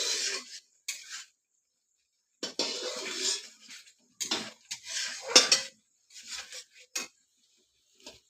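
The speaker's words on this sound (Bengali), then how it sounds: "এবার কচুগুলো এর মধ্যে ফেলে দেবো। দিয়ে একটু করে ভালো করে নাড়িয়ে চাড়িয়ে দেবো।" Taro being stirred in a metal cooking pot, intermittent scraping and clanking of a utensil against the pot in short close bursts separated by silent gaps.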